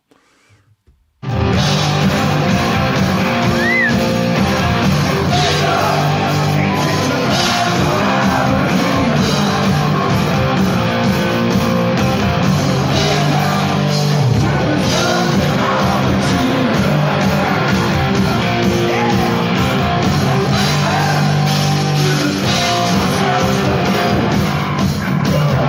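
A large crowd at a concert in Göteborg yells and cheers over loud live rock music, a sustained dense wall of sound starting abruptly after a brief silence and holding steady for the full stretch.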